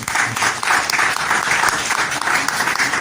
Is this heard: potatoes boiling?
no